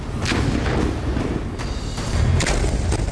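Dense, sustained rumbling booms and heavy thuds from Israeli bombardment of Hezbollah positions in Lebanon, loud and continuous with overlapping low-frequency impacts and no speech.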